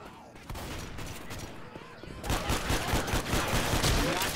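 Rapid gunfire from a Left 4 Dead 2 co-op match, bursts of shots rattling over a steady bed of game noise and growing louder and denser in the second half, with voices faintly present.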